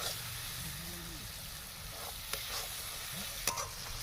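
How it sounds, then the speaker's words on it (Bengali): Turmeric, coriander-cumin powder, chili and Kashmiri chili powder sizzle steadily in a pan while being stirred, a constant frying hiss broken by a few scraping strokes of the spoon. "নাড়তে থাকবো আমরা ভালোভাবে মশলাগুলো ফ্লেভার ছাড়বে"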